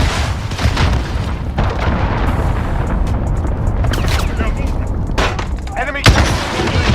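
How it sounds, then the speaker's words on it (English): A cruise missile strike hits in a video game: loud, continuous booming rumble and blasts with sharp bursts of gunfire, mixed with a player talking over the battle. "Cruise missile incoming."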